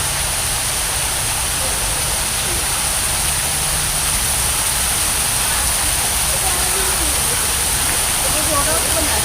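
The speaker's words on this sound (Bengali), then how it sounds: "পানির ফোয়ারা দিয়ে পানি পড়ছে" A fountain in a landscaped garden on a Malaysian city tour pours water in a constant, loud, even rush with no breaks, like steady falling spray.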